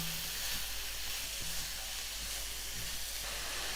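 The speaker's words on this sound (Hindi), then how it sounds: "मैं इसे फ्राई कर रही हूँ।" Grated bottle gourd fries in ghee in a pan with a steady, broad sizzling hiss that stays at an even level from start to end, close up and with no voices.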